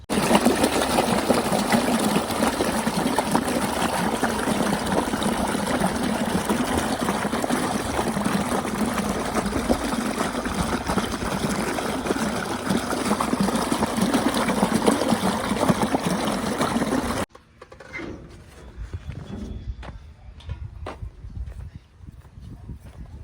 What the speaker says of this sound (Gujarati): હું પાણી વાળું છું રચકામાં